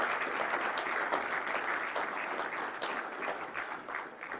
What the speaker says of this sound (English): And a warm applause